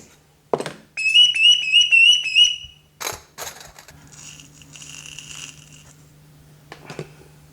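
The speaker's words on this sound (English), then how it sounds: "The whistle is for communicating with a bird" A bird whistle is blown up close, giving a series of bright warbling chirps for about two seconds, followed by clicks, knocks and handling noises with a low hum underneath.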